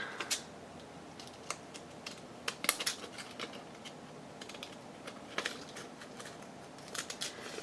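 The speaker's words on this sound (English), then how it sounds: "Scissors just really don't work on the thin paper." Scattered light snips and crisp clicks at an uneven pace, close and quiet, like scissors cutting thin paper, over a soft background hiss.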